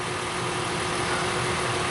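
A Hyundai Sonata engine with a P0171 lean-condition fault idles at a steady, even hum with a low vibrating rumble, close by and uninterrupted.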